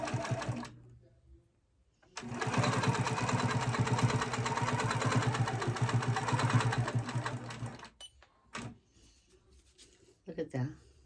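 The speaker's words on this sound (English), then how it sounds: "I'm stitching around it to give it that three-dimensional look." A sewing machine stitches cross-hatching around a feather, running in a steady, rapid mechanical whir for several seconds before stopping, with a person talking before and after.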